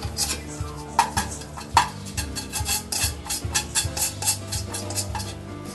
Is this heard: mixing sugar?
yes